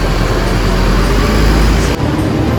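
Buses idling and moving at Giwangan bus terminal, a loud, continuous low engine rumble close by with a broad traffic hiss and no voices.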